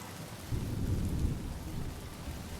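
Steady rain pouring with a deep rumble of thunder rolling underneath, a game storm from Honkai Star Rail, low and continuous with the thunder swelling midway.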